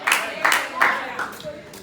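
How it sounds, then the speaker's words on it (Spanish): A church congregation claps hands during a Spanish-language sermon, giving about five sharp, evenly spaced claps in a steady rhythm that gradually soften toward the end. "Dale palmas al Señor."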